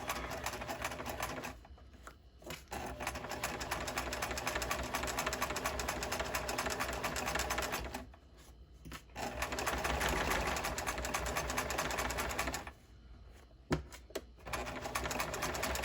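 Steady mechanical whirring from a sewing machine back stitching a seam, running in three long bursts broken by short pauses for repositioning, near and with no voices.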